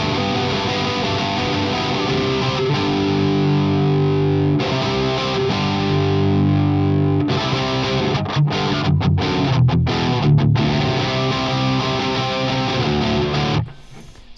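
Heavily distorted electric guitar through the Two Notes Green Punk preset plays a steady run of 90s-style punk power chords with brief palm-muted stops, loud and alone, cutting off near the end.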